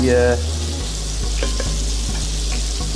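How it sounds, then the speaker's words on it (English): Smoked bacon browns in a pan with olive oil and butter, a loud, close, steady sizzle with a few light clicks as a brief voice fades out at the start. "we have some smoked bacon that we're just browning off."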